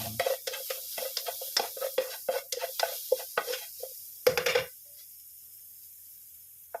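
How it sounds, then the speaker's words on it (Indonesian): Fried rice being stir-fried in a pan: a rapid series of spatula scrapes and clanks against the metal over a light sizzle, continuing for several seconds before stopping with a final louder scrape and leaving only faint background hiss. "Nah kita oseng guys seperti itu ya, kita oseng."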